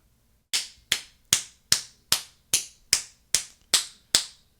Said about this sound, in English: I have to give him a round of applause.